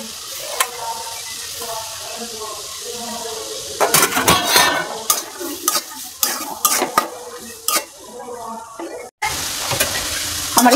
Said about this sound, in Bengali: এখন ইসা মাছ বা চিংড়ি মাছটি দিয়ে দিলাম।